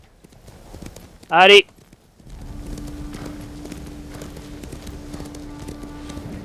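A horse's hooves clip-clop steadily in the video game Ghost of Tsushima, a continuous trotting rhythm over low ambient game sound. A brief spoken word comes just before.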